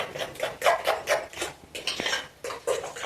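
Kitchen clatter while sardine fritters are prepared, with repeated clinks and taps of dishes and utensils in an uneven rhythm, close and moderately loud.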